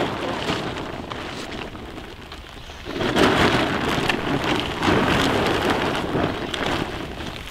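Rain pours steadily in a countryside setting, a dense hiss of drops on surfaces that grows heavier after the first few seconds, with occasional low rumbles beneath and no voices.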